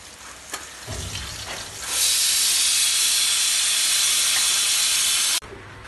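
Ingredients for a beef gravy frying in a pan, a close sizzle with a few stirring knocks that swells into a loud, steady steamy hiss before cutting off sharply near the end.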